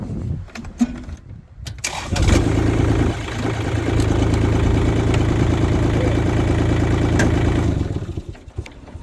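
A farm tractor's engine catches after a few rough bursts, then runs at a steady loud idle with the clutch pressed in and brakes released, settling down near the end.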